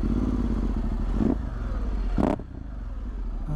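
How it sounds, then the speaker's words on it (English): Ducati Multistrada 1260 S motorcycle exhaust rumbling steadily up close, with two brief louder bursts and a drop in level near the end as the engine note changes. "Nice bit of exhaust to start the old journey off."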